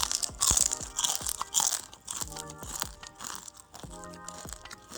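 Someone bites into and chews crispy mango peel chips, close and loud, giving a run of sharp dry crunches followed by softer rhythmic chewing.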